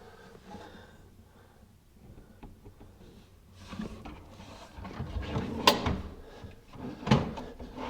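A wooden cabinet drawer slides back into its box and is pulled out again, making a soft rumbling glide that ends in sharper close thumps near the mic.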